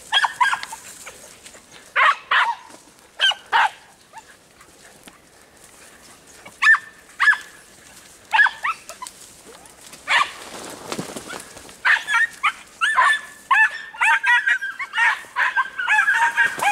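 Andalusian podenco hunting dogs bark outdoors in repeated sharp bursts, some nearby and loud, others overlapping in quick clusters, with quiet gaps between barking spells.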